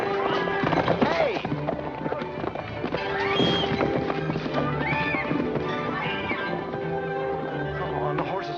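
A horse in a 1939 film scene gallops with clattering hooves and gives a couple of whinnies after a jump, with background commotion and a voice mixed in.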